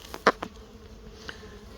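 Honeybees at a busy beehive entrance, heard as a faint buzzing background with a few brief, close buzzes as single bees fly past.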